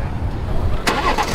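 A BMW with a downpipe and tune runs at a busy car meet, its engine giving a steady close rumble with a rough edge from a struggling transmission and a brief louder burst near the end.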